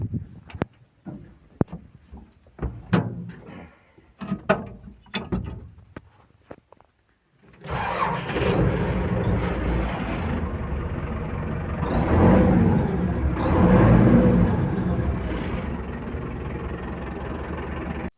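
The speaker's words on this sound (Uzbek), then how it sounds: "Traktor ishga tayyor. Bir kaltam yonadi." An MTZ-82.1 tractor engine, a 2013 model on original tyres, cranks and catches after a few scattered knocks, then settles into a loud, steady diesel run close by that swells briefly while revving.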